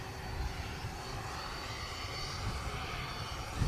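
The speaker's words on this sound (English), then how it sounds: "They've just spotted the A400, the German A400." A German Airbus A400M military transport aircraft arrives at the Royal International Air Tattoo airshow, its engines a faint, distant, continuous rumbling drone that swells slightly toward the end.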